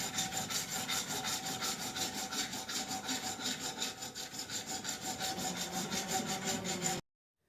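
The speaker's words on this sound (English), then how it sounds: "After running the hacksaw around the edge" A hacksaw cutting around the edge of a bushing during a Wheel Horse garden tractor transmission rebuild, with fast regular back-and-forth strokes, close and steady, stopping abruptly at the end.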